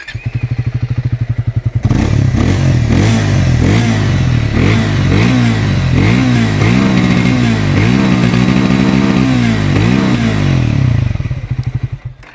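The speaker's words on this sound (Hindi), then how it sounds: "अभी जस्ट आपने इस गाड़ी का एग्जॉस्ट साउंड को सुना" A 2024 Triumph Speed T4 motorcycle engine idles with a thumping beat, then its exhaust revs repeatedly in loud bursts before settling back to idle.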